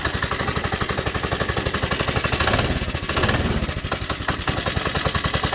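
A Predator 212 small engine on a Baja Doodlebug minibike runs with a rapid, steady loud putter, briefly revving louder midway before settling back to a rough idle, heard close with no talk.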